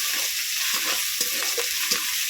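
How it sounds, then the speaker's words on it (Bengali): Ginger, cumin and garlic paste fry in a pan for masoor dal with cauliflower, a close sizzle overlaid by several short bursts of spatula stirring and scraping. "উপকরণ খুব সুন্দর করে ভেজে নেব"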